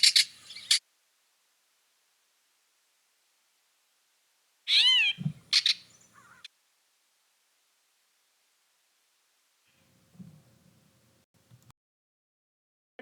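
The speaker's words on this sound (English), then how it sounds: "Mostly what this bird is doing is either these ratchet calls, as they're called, or the namesake cat-like meows." A gray catbird in fall migration gives a few separate cat-like mewing calls, each a short slurred nasal meow with a harsher note beside it, set apart by long quiet gaps, plus a faint low chatter near the end.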